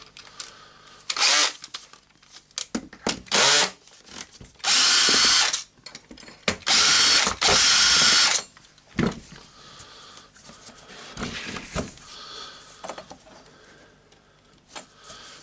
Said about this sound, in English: Now I will unscrew the two screws here, and I will try to take all this part out